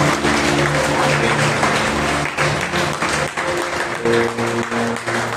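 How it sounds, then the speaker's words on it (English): A congregation at a Monday prayer meeting claps loudly and continuously while sustained keyboard tones play beneath, the clapping dense and close throughout. "Let us give mighty clap to God."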